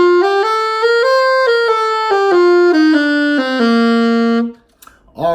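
A single melodic instrument runs up a major scale to the ninth and back down in a lilting dotted eighth-sixteenth rhythm, clear and close, ending on a held low note before a short silence.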